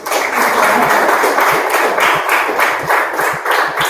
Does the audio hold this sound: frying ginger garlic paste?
no